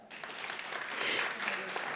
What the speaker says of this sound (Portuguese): Nós pedimos forte aplauso para a senhora Yadira Beslek.